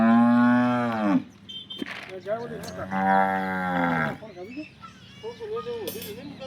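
A local Banaskantha cow moos twice in long, deep, close calls separated by a short pause, with a person talking nearby afterward.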